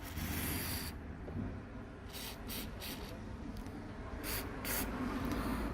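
99.99% alcohol PCB cleaner is applied to the bottom of a Samsung A01 LCD screen, heard as short hissing spray bursts and soft rubbing over a steady close background hiss.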